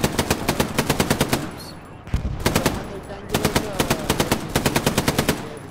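Machine-gun fire in the World War II game Hell Let Loose: loud, rapid evenly spaced bursts close by, broken by a short pause, with faint voices underneath.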